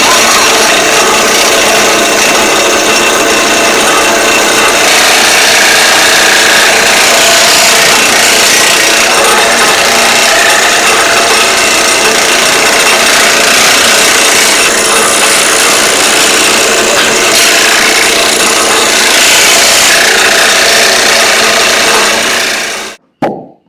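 A power saw cuts wooden puzzle pieces, a steady loud whirring rasp running without a break for over twenty seconds and stopping abruptly at the end.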